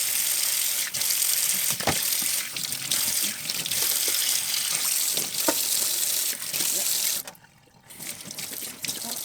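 Tap water runs steadily into a sink while beans are rinsed for moi moi, a Nigerian steamed bean cake, with brief clinks and splashes before the flow cuts out near the end and then resumes faintly.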